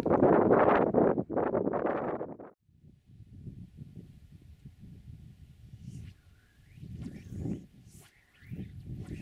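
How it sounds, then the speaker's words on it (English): Wind gusts hard across the microphone at a remote lake during a fly fishing trip, a loud rumbling buffet at first that settles into a softer, uneven blowing, with faint bird calls in the background. "There's a bit of a wind blowing, which may or may not cause us some problems"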